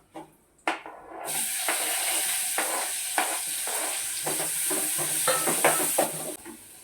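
Urad dal and a pinch of asafoetida hit hot oil and burst into a loud, steady sizzle, with a soft hiss and occasional pops and stirring clinks close by, no voices.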